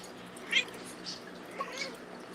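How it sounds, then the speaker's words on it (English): A few soft, faint cat meows in a quiet room, short and spaced apart. "I hear a kitty somewhere."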